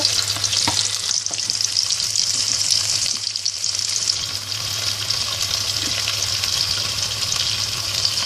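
Garlic and ginger frying with potatoes in a pan, a dense continuous sizzle with occasional stirring clatter, close and steady without pause.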